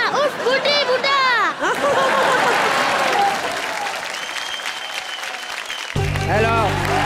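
Studio audience at a Hindi comedy show claps loudly to welcome guests onto the stage, the applause mixed with chuckles, crowd chatter and voices talking over it, with a brief musical sting near the end.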